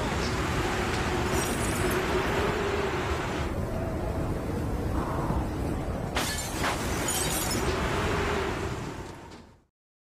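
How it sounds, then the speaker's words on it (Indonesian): Window glass of a wooden house shatters during a snowstorm in the film Cold Blood, heard as a sharp burst of breakage over a continuous roaring wind that fades out at the end. "Tiba-tiba badai salju datang dan membuat kaca rumah kayu Henry pecah."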